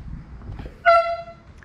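A single short, loud foghorn blast with a bright tonal blare, following a moment of faint background rumble.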